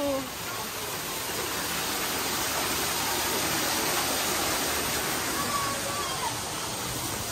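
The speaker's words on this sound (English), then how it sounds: "Look at a nice waterfall." A zoo waterfall pours with a steady, broadband rushing hiss that stays even and fairly loud throughout, with no break in the flow.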